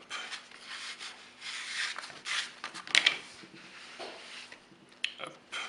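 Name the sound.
stretching and folding sourdough bread dough by hand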